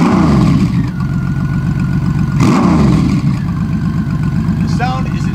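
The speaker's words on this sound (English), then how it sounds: "let me do a drive-by for you, because that's where the real magic happens, when you open the throttle" A 1997 Honda Valkyrie GL1500 motorcycle passes in a drive-by with the throttle opened, a loud, close, deep engine rumble with pulsing revs rising and falling throughout.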